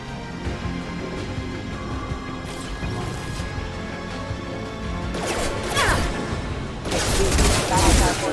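Sci-fi gunfire and impacts crackle through a Mass Effect 2 battle, with bursts of shots and crashes building toward the end over continuous in-game voices and noise.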